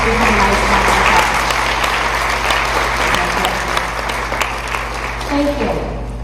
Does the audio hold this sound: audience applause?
yes